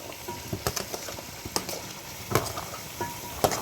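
Tomato, onion, peas and carrot fry in a pot for a mutton stew: a soft, low sizzle broken by scattered taps and scrapes of a utensil stirring against the pot.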